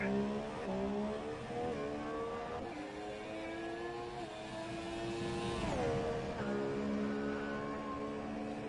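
Race cars on a fast qualifying lap of the Azerbaijan Grand Prix circuit in a racing game, a steady high-revving engine whine that rises and falls through gear changes, loud and continuous with a sharp downshift near the end.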